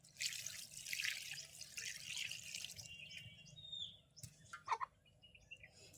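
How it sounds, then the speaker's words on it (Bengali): Water pours steadily into a pot of fish curry for several seconds, a broad splashing hiss, then stops, leaving a few faint clinks and drips. "আমি একটু পানি দিয়ে দেবো"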